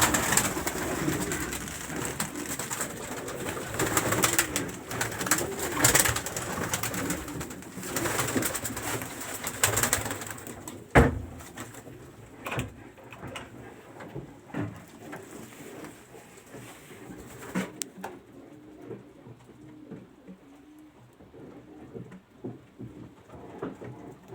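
Homing pigeons cooing in a loft, soft repeated throaty coos and rustling wing flutters, fairly close, with occasional scuffing and clatter as the birds move about.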